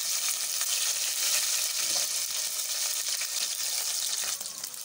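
Mustard seeds for tomato dal rasam sizzle in hot oil with a dense, steady hiss and fine crackle heard up close, fading slightly at the very end.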